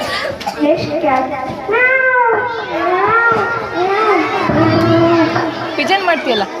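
A 6th-standard boy mimics a cat's meowing with a run of drawn-out, whiny, wavering meows, close and steady, over a murmur of children and background chatter.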